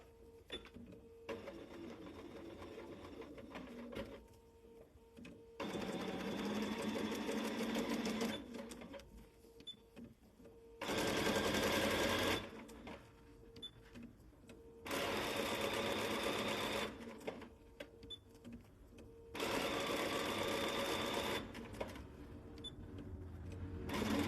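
A sewing machine backstitches at the end of a seam on fabric, running in several loud, steady bursts of rapid stitching separated by short quiet pauses, close by with no talk.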